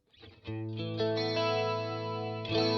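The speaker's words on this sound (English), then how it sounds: "Sounds like we've got a chorus" A sustained electric guitar chord through a Boss amp's chorus effect, drenched in shimmering modulation, ringing out thick and wavering, with a fresh strum near the end.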